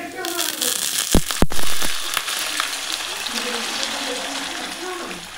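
Water poured into a hot pan of frying masala cooked in oil, bursting into a sharp hiss and sizzle that settles into steady bubbling crackle, with a voice speaking briefly over it.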